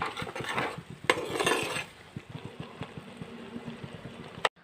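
A metal pot of koorka (Chinese potatoes) on the stove is opened, with clanks of the lid and utensils scraping and stirring. Soft sizzling and tapping continue, and a sharp metallic knock sounds near the end.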